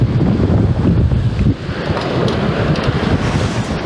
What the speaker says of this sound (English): Shit, it's so windy.